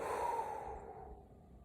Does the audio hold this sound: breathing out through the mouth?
yes